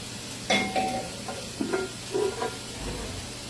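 Steak sizzles in a cast iron pan alongside caramelized onion, a soft steady hiss punctuated by a few clinks and scrapes of utensils against the pan.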